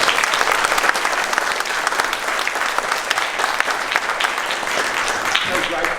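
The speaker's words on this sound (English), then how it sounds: "I reckon they deserve another big round of applause." Enthusiastic round of applause from an audience of pupils and parents at a junior school assembly, dense close clapping sustained steadily throughout, with faint voices mixed in.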